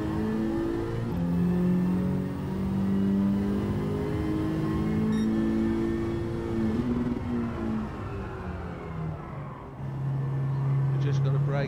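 A Honda Beat with a swapped K-series engine racing at Autopolis in Gran Turismo 7, its high-revving engine droning and shifting pitch steadily under continuous talk.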